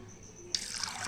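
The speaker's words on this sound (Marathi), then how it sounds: "आता 1 ग्लास पाणी टाकलं आहे." Water from a glass poured onto chana dal soaked for two hours in a pressure cooker, a short bright splashing rush that starts abruptly halfway through and keeps going, close and steady after a brief quiet start.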